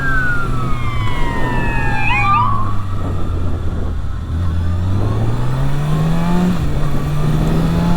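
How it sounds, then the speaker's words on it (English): An ambulance siren wails through the whole stretch, its sweeping tone rising and falling over a loud, steady 600cc motorcycle engine rumble as the vehicle draws closer. "And of course there's an ambulance coming."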